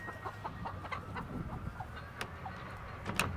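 Chickens on an off-grid homestead in the woods cluck and chatter softly close by, with a few brief sharper calls scattered over a low outdoor background.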